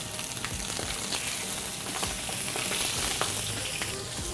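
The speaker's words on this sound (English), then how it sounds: "You wanna hear that sizzle." Chicken breast laid skin-side down in hot oil with garlic butter sizzles and crackles steadily in the pan, a close, continuous frying hiss with small pops and occasional stirring sounds.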